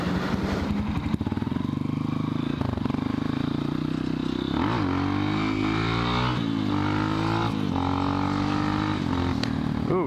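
A Suzuki GSX-R motorcycle engine revs hard during a wheelie, its pitch climbing and dropping through repeated throttle pulls. It stays loud and close throughout, with steady wind rumble underneath.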